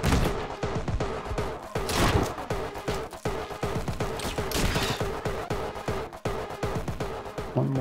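Gunshots in Anger Foot, a rapid string of sharp cracks and impacts with a few heavier bursts, loud and near, over a steady pulsing game backdrop.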